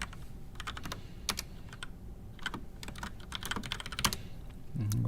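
Fast, irregular clicking of keys on a computer keyboard during a live software developer session, close and fairly quiet, with brief pauses between bursts of typing.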